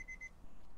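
Timer alarm sounds three quick, faint electronic beeps at the start, then falls quiet beneath low room noise.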